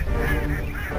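Live caged ducks call in loud, harsh, strident honking quacks at dusk, several voices overlapping closely in a brief burst.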